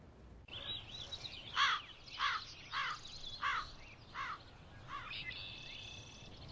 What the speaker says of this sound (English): I wasn't sure if that was a bird or that crazy dude over there.